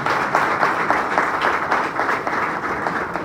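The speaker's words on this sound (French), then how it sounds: "que je vous demande d'applaudir très fort" Loud, sustained applause from an audience at a political speech in Gabon, steady and dense throughout with no gaps, rippling with individual claps.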